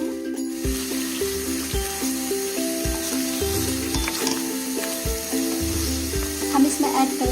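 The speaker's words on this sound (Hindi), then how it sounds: "करेंगे चिकन। इसको अच्छे से हिला लेते हैं।" Chicken for dum biryani sizzles loudly in a pan as it is stirred, a steady frying hiss with a regular run of dull low thumps and faint tonal sounds beneath, close and continuous.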